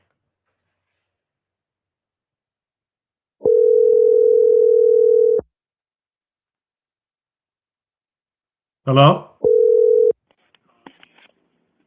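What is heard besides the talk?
phone dial tone while calling back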